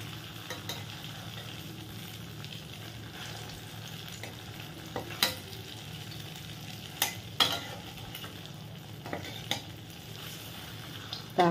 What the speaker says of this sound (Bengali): বলগুলো আমি ভেজে নিই।